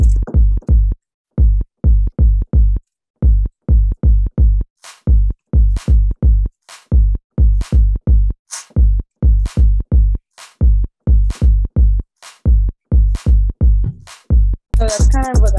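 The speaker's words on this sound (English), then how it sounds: "I'm going to do a little clap." A kick and clap pattern programmed in code: deep, steady kick thumps with sharper, brighter clap hits landing between them in a repeating loop. It is loud and up close, and a brief other sound comes in at the end.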